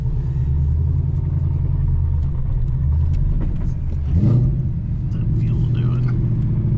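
A 2007 Mustang GT with a swapped Coyote V8 rumbles deeply from inside the car while driving, a steady low throaty drone with a brief rise in revs partway through, under quiet talk.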